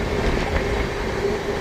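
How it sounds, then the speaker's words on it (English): A passenger train rolls slowly over tracks under a work-related caution limit of 20 km per hour, giving a steady, loud rumble and clatter that continues without pause and without any voices. "the train is now moving to caution level of 20 km per hour."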